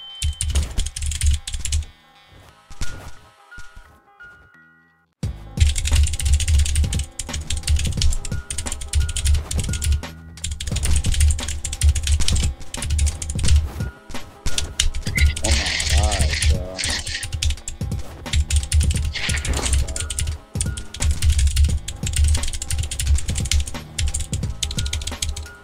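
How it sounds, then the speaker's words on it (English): Rapid clacking of keys on a computer keyboard, close and steady through most of the stretch after a brief near-silent pause, with a low rumble and a faint voice underneath. "I gotta get a new keyboard, bro. This keyboard is terrible."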